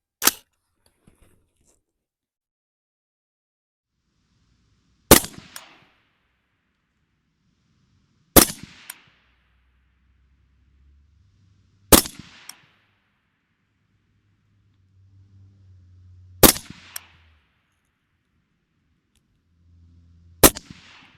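Six sharp, loud rifle shots from an AR with a 14.5-inch barrel on a 100-yard range, fired alone at slow, irregular intervals roughly three to five seconds apart, each with a short decaying tail.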